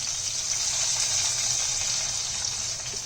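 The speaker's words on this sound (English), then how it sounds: "I'm going to pour this gently over the fish" Hot panch phoron tempering oil poured over fish sizzles and crackles in a steady, fairly faint hiss that lasts a few seconds, with no one speaking.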